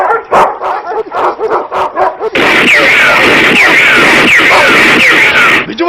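Several dogs bark and yip in quick, loud bursts close by, then a dense, continuous chorus of barking and whining fills the rest.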